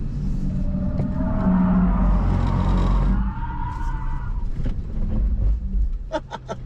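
A Hyundai Ioniq 5 N powers hard, giving a loud rising whine and rumble over about three seconds before easing into quieter rolling noise with scattered clicks and chirps.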